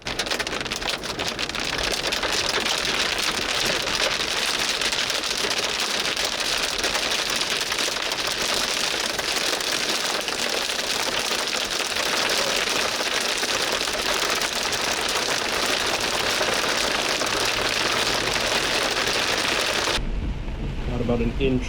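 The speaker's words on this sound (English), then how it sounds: "lowered freezing levels helped this storm churn out a solid serving of hail" Hail and heavy rain from a lightning-producing thunderstorm pour down in a dense, steady roar on a storm chase, loud and continuous for about twenty seconds before cutting off abruptly.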